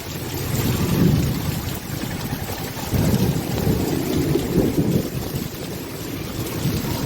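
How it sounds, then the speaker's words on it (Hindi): A heavy summer downpour pours down during a strong windstorm with thunder. Dense, steady roaring noise surges in loud waves with low rumbles underneath, and no voices are heard. "घमासान बारिश शुरू हो गई है, बिजली भी कड़क रही है।"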